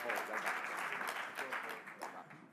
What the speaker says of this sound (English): Big round of applause for everybody here.